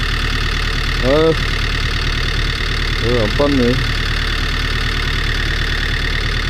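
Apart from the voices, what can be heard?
tractor engine idling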